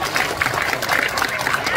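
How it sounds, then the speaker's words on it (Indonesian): A crowd claps at a live Balinese comedy show. A short burst of dense, close applause is mixed with crowd noise and some voices. "tepuk tangan dulu dong"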